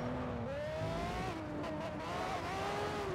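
A race car in an EA racing video game drives at speed, its engine tone climbing through gear shifts with a faint tire hiss underneath, fairly quiet and steady.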